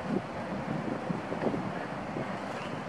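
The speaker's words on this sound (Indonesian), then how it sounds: "Ombaknya kenceng ya, mungkin sekarang lagi musim-musimnya pasang." Strong surf rolls onto the beach at Pulau Merah, a continuous broad wash of waves mixed with gusty wind rumble, steady and moderately loud with no pauses.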